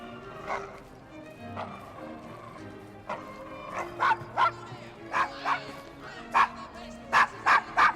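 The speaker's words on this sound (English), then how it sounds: "Charming dog. No one's here, why are you barking?" A dog barks in the Victorian London streets of Assassin's Creed Syndicate. The barks start faint and scattered, then grow into a loud, rhythmic run of repeated woofs over quiet city ambience.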